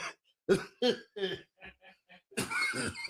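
Someone coughs and clears their throat in several harsh, uneven bursts up close, ending in a louder, rougher coughing fit.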